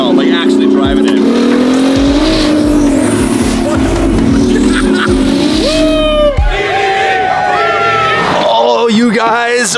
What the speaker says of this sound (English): First time driving the F12, like actually driving it.